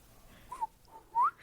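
A person whistles in imitation of a whistle call, giving two short, clear tones, a faint brief one followed by a louder rising one, alone in a quiet room.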